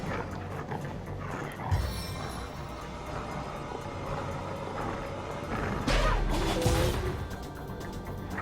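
Dogs are attacked in the fantasy role-playing game Divinity: Original Sin: a busy mix of growls, yelps and combat effects with two louder crashing bursts partway through.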